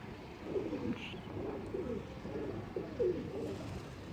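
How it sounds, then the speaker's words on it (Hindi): A pigeon back from flight coos softly nearby, a few low, repeated throaty calls spaced across a quiet outdoor background with faint ambient noise. "कबूतर अब ये आ गया"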